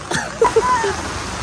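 Water flows steadily around a resort, a continuous broadband rush with brief fragments of voices over it.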